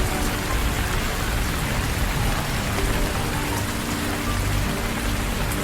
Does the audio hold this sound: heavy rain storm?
yes